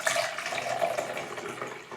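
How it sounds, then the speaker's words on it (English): A short, steady pour of water into a MudJug Classic self-watering planter, a close splashing stream that trails off slightly at the end. "I'm going to put a little bit of water in each one of these"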